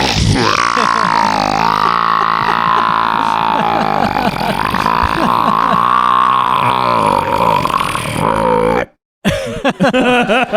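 A single long, loud burp, deep and strongly voiced, rumbles on for about nine seconds before a brief pause and a short rough tail.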